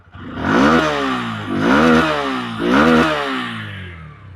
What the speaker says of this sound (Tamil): எக்ஸாஸ்ட் நோட் கேட்போம்